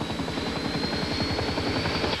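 A U.S. Air Force helicopter's rotor thumps in a steady, rapid rhythm, loud and close, with a constant engine whine above it.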